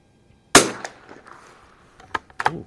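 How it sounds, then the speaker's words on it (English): A single sharp crack from an H&R M-12 .22 target rifle firing Aguila ammunition at an outdoor range, loud and close, followed by faint clicks and handling noises. "That sounded noticeably louder than some of the other shots."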